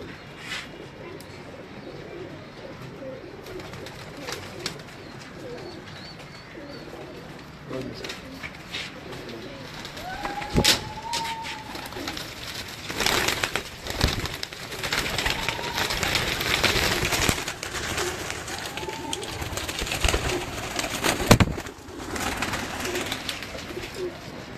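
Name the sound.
breeder pigeons cooing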